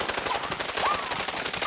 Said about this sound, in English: it's time for us to fight because you've been shooting right over my shoulder